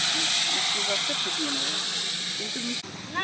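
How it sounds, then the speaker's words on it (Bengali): Sugar syrup poured into a hot pan of fried peanuts for a sweet, a steady loud hiss and sizzle with a few bubbling pops, cutting off abruptly near the end. "এবার মিষ্টির রসটা আমি দিচ্ছি"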